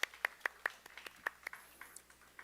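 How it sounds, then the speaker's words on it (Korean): A congregation at a middle-school church service claps in a quick, even rhythm. The crisp, faint claps are spaced evenly and thin out toward the end. "하나님께 다시 한번 크게 영광의 박수 올려드리겠습니다"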